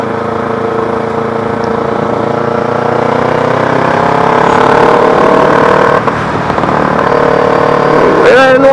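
A Kawasaki Z300 motorcycle with a straight-pipe exhaust runs loud and close. Its raspy engine note climbs steadily as it revs, dips briefly, then surges again near the end.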